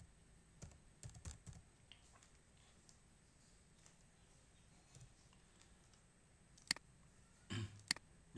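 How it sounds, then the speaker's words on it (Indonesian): Typing on a computer keyboard: scattered faint key clicks and short bursts of taps, quiet and close, with gaps of near silence between them. "Setelah itu kita ketikkan"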